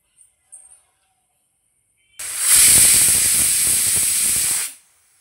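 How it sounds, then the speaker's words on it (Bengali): A pressure cooker boiling elephant foot yam on a kitchen stove lets out one loud, steady whistle and steam hiss lasting a couple of seconds, after brief faint sounds. "আমি দুটো সিটি মেরে নেব প্রেসারে।"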